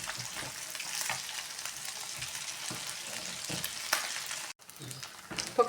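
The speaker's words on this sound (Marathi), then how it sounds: "तर आवाजावरूनच कळत असेल तुम्हाला किती छान कुरकुरीत हे तळलेले आहेत" Leftover cooked rice fritters fry crisp in hot oil, a dense, continuous crackling sizzle with occasional stirring taps, briefly cutting out near the end before resuming.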